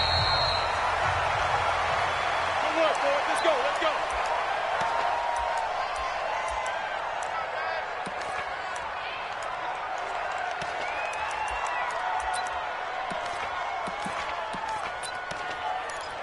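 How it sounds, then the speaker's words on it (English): Stadium crowd at a Houston Texans versus Denver Broncos NFL football game, a steady loud roar of cheering and whooping that carries through the whole stretch with no break. "This crowd is ready as their guys get set to match up between the Houston Texans and the Denver Broncos."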